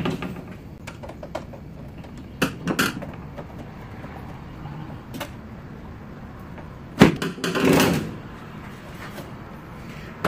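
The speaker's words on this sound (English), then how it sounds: "Let's go ahead and crack this thing open, see what is inside." The case of a Dell Inspiron 531 computer is opened, with scattered clicks and taps, then a louder clunk and a short sliding scrape of the panel, heard nearby with quiet gaps between.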